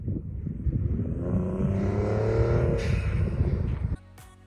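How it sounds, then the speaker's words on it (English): A Gen 2 Ford Raptor with its factory electronic blow-off valve bypassed revs up with a rising engine note, then releases a short whooshing blow-off puff before the sound drops to a low idle. "I bypassed the factory electronic blow-off valve so I could make this sound."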